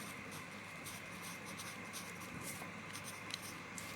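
Soft scratchy strokes of writing on a board, faint and continuous with rhythmic rubbing under a quiet room hiss, no talking.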